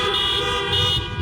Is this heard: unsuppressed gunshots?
no